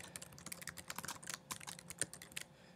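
Fast, light typing on a computer keyboard, close and quiet, with uneven bursts of key clicks and no talking.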